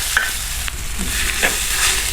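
Crushed garlic, black pepper and cumin fry in hot oil for a Tamil tomato rasam, giving a steady close sizzle with a few soft stirring clinks and no talk.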